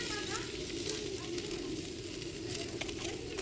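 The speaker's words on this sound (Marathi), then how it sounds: "लोखंडी कढईमध्ये फोडणी कांद्याची." Onion tempering sizzles steadily in an iron wok, a constant close hiss and crackle of frying that holds at an even level throughout.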